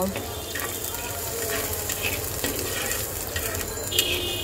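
Chopped onion frying in hot oil in a wok with dried red chilli, a steady moderate sizzle and crackle with occasional stirring scrapes and clinks.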